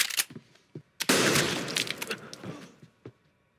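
Shotgun blasts and gunfire from a fight scene in the action film The Raid 2, with a few sharp cracks followed by one heavy, sustained burst of fire that trails off into scattered shots.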